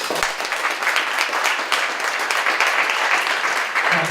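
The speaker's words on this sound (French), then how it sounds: "un bel applaudissement pour Philippe Richard Bertrand." An audience applauds steadily after a speaker is introduced at a talk, a dense continuous clapping that holds at even loudness throughout.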